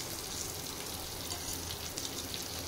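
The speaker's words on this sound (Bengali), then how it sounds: "এগুলো একবারে সব দিয়ে একটু ভাজা ভাজা করতে থাকবো।" Chopped tomato, green chilli and crushed ginger frying in a pan, giving a steady, close, continuous sizzle with faint bubbling and no pauses.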